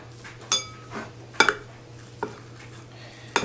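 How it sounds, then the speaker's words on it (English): A scoop lightly taps and presses mounds of sweet potato dog treat dough flat on a baking tray, giving a few separate soft clinks and scrapes against a steady low hum. "I'm just going to flatten the top of them ever so lightly"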